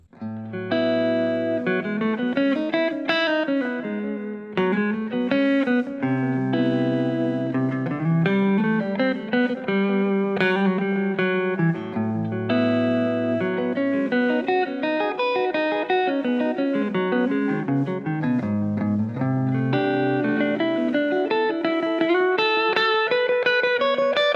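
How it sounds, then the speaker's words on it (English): A melodic electric guitar line plays alone through delay and plate reverb, notes ringing into echoing repeats and a smooth reverb tail that blurs them together. "this is what it would sound like with the delay and the reverb."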